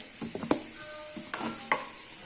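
Food frying in a pan: soft sizzling under a few scraping stirs and clinks of a utensil, quiet and close, with no talking.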